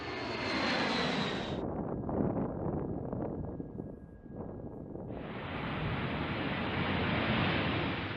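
B-52 bomber jet engines roar during takeoff, a loud, broad rumbling blast that briefly dulls mid-way before surging back with a full hiss, heard close and without voices.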